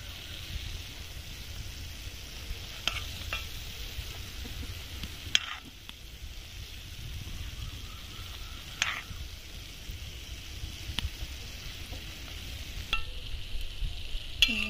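Gulab jamun balls frying in hot oil make a steady, soft sizzle and bubbling, with occasional stirring clinks and scrapes at a few moments.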